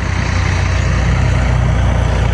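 A tractor engine runs steadily while levelling a patch of land in rural Punjab, a continuous low rumble with a throbbing idle-like pulse, loud and close, with no voices over it.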